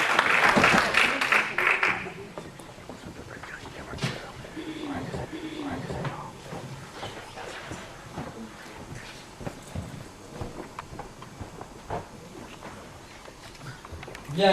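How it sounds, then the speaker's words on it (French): An audience at a lecture on the meaning of work welcomes a philosopher with a short burst of applause at the start. It fades quickly into quieter room noise, and speech follows. "sous vos applaudissements"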